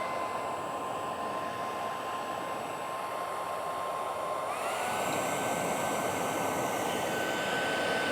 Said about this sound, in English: So I'm just using a hairdryer.